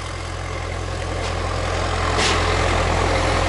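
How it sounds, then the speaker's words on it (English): A tractor rumbles past on a misty summer country road near a reservoir, a steady low engine drone that swells slightly louder toward the end with no talking over it. "There's a tractor going by"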